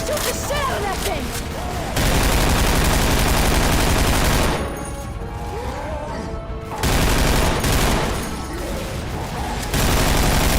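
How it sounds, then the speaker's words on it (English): Gunfire rattles through a Left 4 Dead 2 fight against a horde, with loud bursts of rapid automatic shots that come in waves and brief lulls, voices speaking over the action. "Don't stop shooting!"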